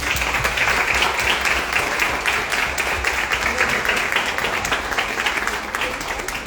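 An audience at a book-fair author talk breaks into sustained applause, a dense wash of many hands clapping that holds steady for several seconds before easing slightly.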